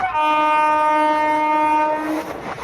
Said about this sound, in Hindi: ट्रेन की स्पीड स्लो हो रही है क्योंकि ट्रेन बढ़ रही है इसके नेक्स्ट स्टॉपेज की तरफ